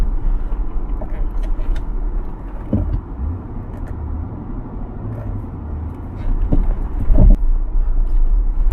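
Cars idle and roll along a mountain road near a trailhead in the Colorado Rockies by Boulder, a continuous low engine rumble with occasional creaks and thumps, close and steady.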